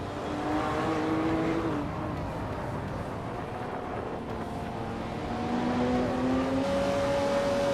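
Racing-game engines, including a 1996 Lotus Esprit V8, drone and rev steadily around the Autodromo Oscar Juan Galvez track, with pitch rising and falling as cars accelerate, a continuous close mechanical roar with no talking.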